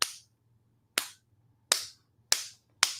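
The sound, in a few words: people clapping hands in a clap competition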